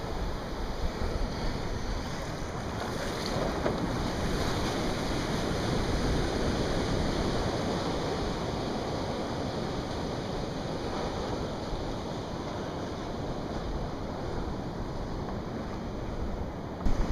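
Ocean surf washing in and out around an Angulo Shaka 14 paddleboard during a paddle on inconsistent hurricane swell, a steady broadband rush of waves and water with wind buffeting the microphone throughout, no voices.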